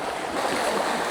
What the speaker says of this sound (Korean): 물살이 너무 세다